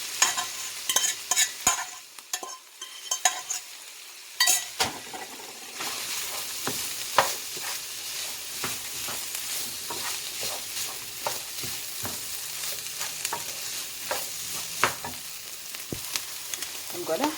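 Scrambled eggs sizzle in margarine in a pan for luncheon meat fried rice, a steady close frying hiss broken by repeated sharp scrapes and clacks of stirring, with no talking.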